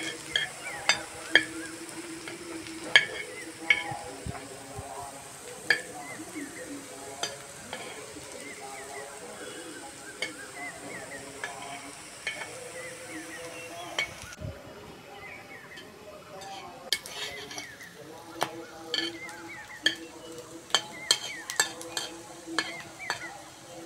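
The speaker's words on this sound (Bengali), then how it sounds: "একটু তেল বেশি করে দিয়ে ভাজতে হয়" Lentil fritters (dal bora) with egg in the batter fry in a generous amount of oil, giving a continuous crackling sizzle broken by frequent sharp clinks of a spatula against the pan.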